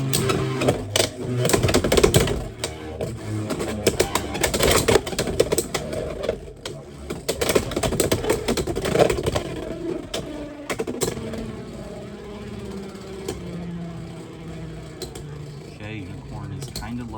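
Two Beyblades, Unicorn Sting and Hell's Chain, launched from string launchers and spinning in a stadium, giving off a steady whirring with rattling clashes. The spinning gradually winds down to a spin finish, and people talk over it.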